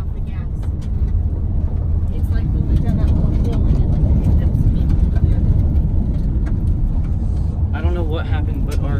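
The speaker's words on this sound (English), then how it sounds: "Our car's moving again." A car drives with a steady, loud low rumble of engine and road noise throughout, and voices talk over it near the end.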